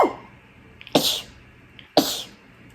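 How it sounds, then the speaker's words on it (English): A woman sneezes repeatedly indoors while suffering from allergies, three loud, close sneezes spaced about a second apart, each with a sharp burst and trailing breath. "I've been sneezing nonstop today."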